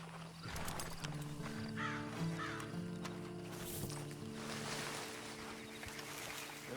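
Horse hooves clip-clop at a steady walking pace in the video game Red Dead Online, mixed with a faint whinny and a low ambient hum in an outdoor scene, moderately close and without speech.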